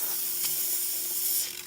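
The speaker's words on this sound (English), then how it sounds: "See, we're getting good steam." A steady, airy hiss from an Elektra espresso machine's steam wand runs throughout at moderate volume, with faint mechanical ticks underneath.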